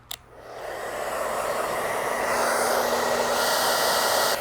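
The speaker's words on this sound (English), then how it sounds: "So I got a blow dryer here" A blow dryer on high heat, drawing over 1,400 watts from a portable solar generator, clicks on and spins up into a loud, steady close whoosh that stays constant without talk.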